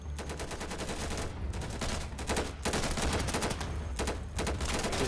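Fast, continuous gunfire in the video game Insurgency, with dense rapid bursts and short pauses layered over a low rumble, sounding near and steady throughout.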